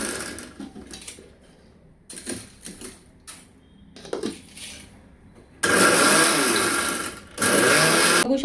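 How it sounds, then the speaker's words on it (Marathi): A mixer grinder pulsed in short bursts to grind edible gum into powder, with several quieter taps giving way to two long, loud whirring runs close by; no talk. "मिक्सर आपल्याला एकसारखं फिरवायचं नाही, असं टॅप करत फिरवायचं आहे"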